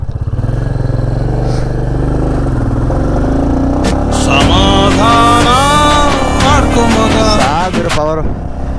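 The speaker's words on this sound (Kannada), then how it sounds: "ಈಗ ಗಾಡಿ ಓಡಿಸೋಣ ಬನ್ನಿ. ಫಸ್ಟ್ ಗಾಡಿ ಓಡಿಸೋಣ." A Royal Enfield Classic 350 motorcycle rides off in first gear, its loud, close single-cylinder engine thumping steadily and rising in pitch as it pulls away, with a voice heard briefly over it.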